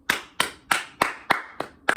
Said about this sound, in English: Everyone just starts clapping.